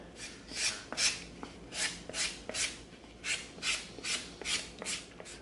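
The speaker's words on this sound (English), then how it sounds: "let's come in with some sanding sticks now. We'll come in with our 80 grit." Rhythmic raspy strokes of an 80-grit sanding stick rubbing back and forth on EVA foam, about a dozen quiet, even passes.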